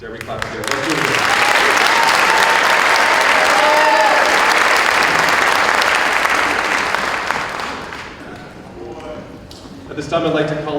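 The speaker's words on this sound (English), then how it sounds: "Dare we clap together? Let's do it again." A second round of loud, sustained crowd clapping at a high school awards night, steady and dense for about eight seconds before tapering to a few claps and voices.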